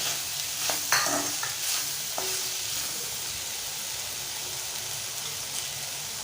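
Chopped tomato gets stirred into frying okra bhaji in a pan, a steady close sizzle with a few spoon scrapes and knocks near the start, then an even hiss.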